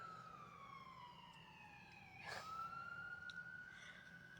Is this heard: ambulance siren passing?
yes